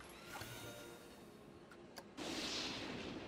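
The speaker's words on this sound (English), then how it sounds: "that's the sound of a lightning strike" A lightning strike effect in the Planet Coaster game: sharp cracks over a low rumbling bed, then a sudden louder crackling surge that holds steady to the end.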